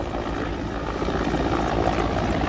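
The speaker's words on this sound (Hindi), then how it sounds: "यहां पर महिसागर नदी के तट पर फंसे एक मजदूर का हेलीकॉप्टर से रेस्क्यू किया गया।" A helicopter rescuing a worker stranded on the bank of the flooded Mahisagar river, its rotor roar loud, dense and continuous throughout, with no voices.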